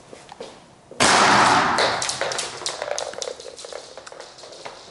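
A grenade launcher round strikes a hockey visor during a crash test: a sudden sharp loud impact followed by a burst of scattering clatter and rattling that fades over a few seconds.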